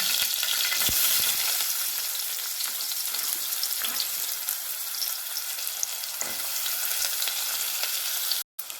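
Asafoetida, curry leaves and onion dropped into hot garlic oil, a loud dense crackling sizzle that holds steady throughout with a few faint stirring knocks, close by and free of talk.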